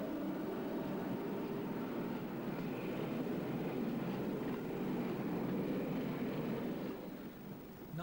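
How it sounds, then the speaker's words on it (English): Class 86 electric locomotive 86328 drags a Class 25 and a tank wagon train out of Nuneaton, a steady, faint, distant rumble of rolling stock that fades slightly at the end. "86328 drags a Class 25 and its tanks train out of Nuneaton"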